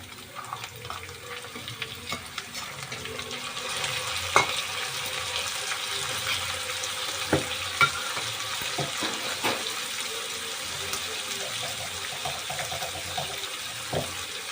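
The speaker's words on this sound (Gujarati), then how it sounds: "અને હવે આપણે એડ કરીશું અંદર ટામેટા" Steady sizzling from a pan of frying egg khimo as tomatoes go in, with a few scattered clinks and stirring knocks over a constant hiss; no speech.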